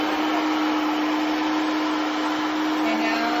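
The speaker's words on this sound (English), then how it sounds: "So we'll just hit clean." A steady, close whirring hum with a faint tonal whine from a 360 C50 robot vacuum mop running continuously without pause.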